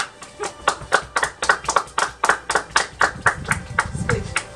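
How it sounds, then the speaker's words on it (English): Graduation audience applauding a graduate at a ceremony, a steady run of moderate hand claps in an uneven rhythm from a small group, fairly close, with some faint voices beneath. "Oh, you may applaud."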